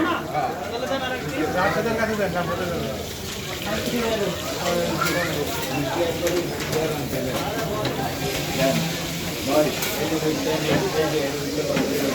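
Chandpur hilsa fish frying in oil, a steady hiss and sizzle running underneath continuous talk and busy background voices.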